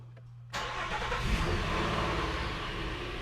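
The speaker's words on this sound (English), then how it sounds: "I'm going to start the engine and do the same thing." A Nissan Frontier pickup truck engine cranks and catches after a brief moment, then settles into a loud, steady rumbling idle close by.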